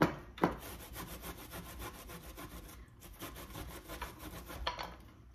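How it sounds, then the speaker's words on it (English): Fresh ginger is rubbed back and forth on a grater in quick, even rasping strokes, close and fairly quiet, with a couple of sharper knocks near the start and no talking. "next we're going to grate 1 tablespoon of ginger"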